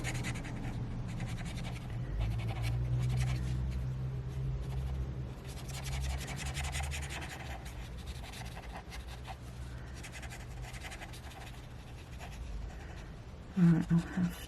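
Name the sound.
acrylic paint markers drawing on paper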